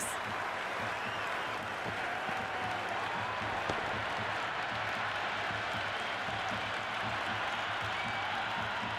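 A cricket stadium crowd in Cricket 26 cheers and applauds in a steady, dense roar that holds at an even level throughout.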